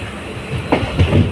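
Second-class passenger train running towards Kollam, a steady loud rumble of wheels on rails with rhythmic clatter and a couple of heavier jolts near the end, with no voices.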